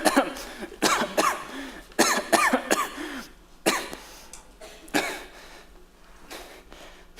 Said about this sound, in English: Pardon me, the cough